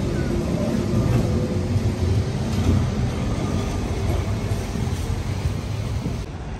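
Lisbon tram climbing a steep hill toward the cathedral, a steady loud rumbling and rattling drone with metallic squeal traces, constant throughout without clear speech.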